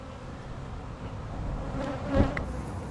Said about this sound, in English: So now we are starting to see that the bees are congregating around that hole.